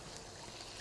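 Plain water poured into a pan of cooking fermented soybean paste and tamarind water for a fish dish, a brief steady rushing stream, faint and close, with no talk.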